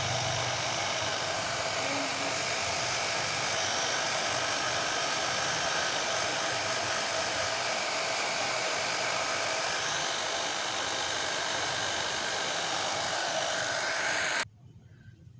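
A hair dryer blows steadily while a brush works through hair to straighten it. The whoosh is loud, close and constant for about fourteen seconds, then cuts off abruptly.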